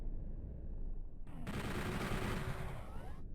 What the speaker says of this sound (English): The best weapon to use is the chain gun because it does hit multiple times.